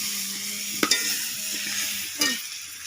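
Vegetables sauté and get stirred in a hot pan for a village-style fish curry. A steady sizzle runs throughout, broken by two sharp scraping clinks of the spoon against the pan.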